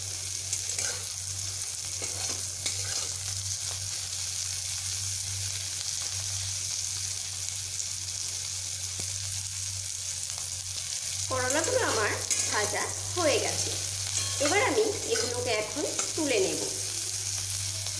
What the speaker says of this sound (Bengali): আমার এগুলো প্রায় ভাজা হয়ে এসেছে